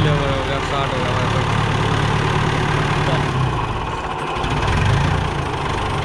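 Running 1958 Fordson Power Major tractor, its diesel engine idling with a steady, loud low rumble heard close up throughout.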